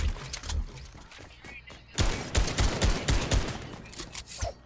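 AK assault rifle fire in a video game, with scattered shots early, then a loud rapid burst of repeated shots in the second half, under the game's background noise.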